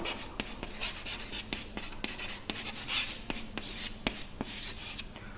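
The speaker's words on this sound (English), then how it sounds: "Pigment, I will write it here also." Someone writes on a board during a biology lecture. Scratchy, rhythmic strokes and taps repeat close by, with no talking over them.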